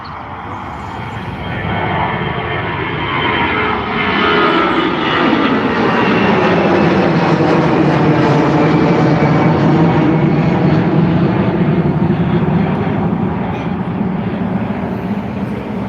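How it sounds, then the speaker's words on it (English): Aer Lingus Airbus A320 taking off at Dublin Airport, its jet engine roar swelling into a loud, sustained rumble that holds strong for the whole stretch before easing slightly, with no clear talking. "we have the beautiful A320 taking off again"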